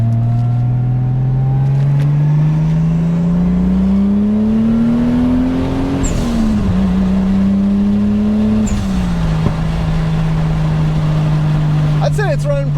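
A Toyota Supra with a boosted 7M engine revs and accelerates hard, its loud exhaust note rising in pitch across gear pulls and dropping at each shift. It is close, continuous and powerful throughout.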